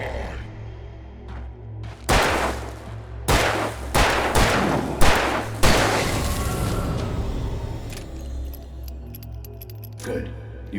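Several loud gunshots ring out in Alan Wake Remastered, fired as single spaced blasts with ringing tails, followed by a quieter, rumbling ambience and a few faint clicks and knocks.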